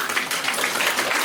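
Applause from an audience at a theater award ceremony, a continuous dense wash of hand claps holding steady and fairly loud through the short stretch, with no voices over it.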